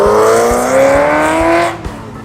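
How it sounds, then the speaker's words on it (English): A Corvette Z06 at a breakfast car meet gives a loud, close engine note, its steady high-pitched rev and drone holding for under two seconds before cutting off abruptly. "very purposeful sounding Corvette Z06"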